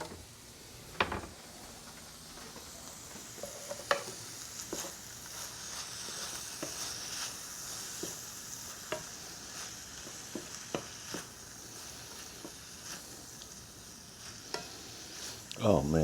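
Sausages frying in a pan with a sprinkle of black pepper: a steady, quiet sizzle runs throughout, broken by scattered utensil clicks and scrapes, with a louder clatter at the very end.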